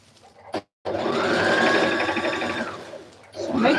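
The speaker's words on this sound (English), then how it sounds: "So make sure when you're sewing you capture both sides." A sewing machine stitches fabric for a Rwandese cultural dress in a steady, close whirring run lasting a few seconds, with a brief pause before it starts and faint talk around it.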